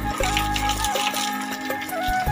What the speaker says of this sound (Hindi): अभी हमको ये पानी देना कंप्लीट करना पड़ेगा, ये पूरा घुमा के पानी देना पड़ेगा